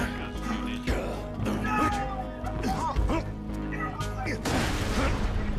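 Grenade blast from a jump in Borderlands 2, a loud game explosion amid dense gunfire and crashing effects, with people talking over the chaos.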